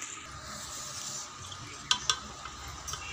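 Cooked mutton with softened tomatoes is stirred into okra in a pan, with a steady sizzle and scraping of the spoon, a few sharp clinks against the metal near the middle, and no talk.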